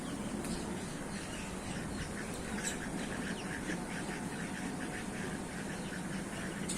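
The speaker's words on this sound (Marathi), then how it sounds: "किती बदक आहेत इथं" Faint, scattered quacks of white ducks by a riverbank over a constant outdoor hiss, distant and irregular.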